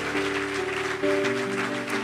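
A church congregation claps steadily throughout, a dense wash of applause beneath sustained musical tones from an organ or keyboard.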